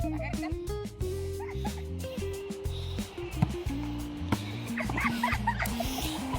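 Dog barking and yipping in short, repeated bursts with some whimpering, heard close by over a constant loud tonal background, with people talking through it.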